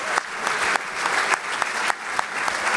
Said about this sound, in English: Round of applause for both girls, please.